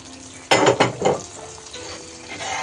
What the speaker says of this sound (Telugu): స్టవ్ ఆఫ్ చేసుకొని మనం డ్రై ఫ్రూట్స్ ఫ్రై చేసుకుందాం.